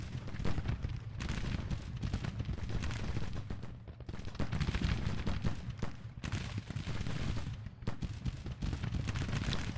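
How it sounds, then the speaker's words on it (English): Civil War artillery fire in a strategy battle game, with dense overlapping booms and cracks of cannon and musketry rolling continuously, loud and close, with brief lulls between bursts. "A lot of artillery fire hitting into this unit, 2nd Brigade"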